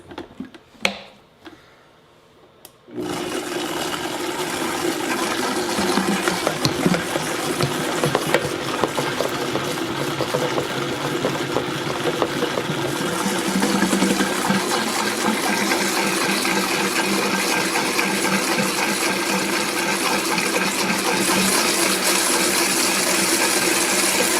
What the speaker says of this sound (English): Alrighty, so I'm going to turn on my Vitamix